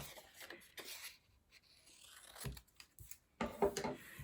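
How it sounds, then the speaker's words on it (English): Scissors cut through folded paper along its creases in a Grade 4 classroom craft lesson, giving several short, fairly faint snipping and rustling bursts with pauses between them. "we're going to cut on those creases again"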